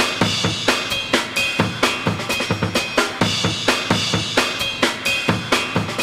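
A programmed drum break loops its first beat and a half, producing a quick, syncopated run of sharp, evenly loud kick, snare and cymbal hits that repeats throughout with no voices.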